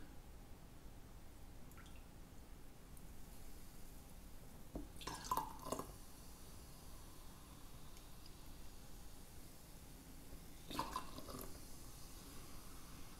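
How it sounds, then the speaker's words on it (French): Cola poured from a can or bottle into a Cuba Libre glass, with two brief, faint splashing pours about five seconds apart over a quiet room background. "je vais y aller avec 3 onces de coke"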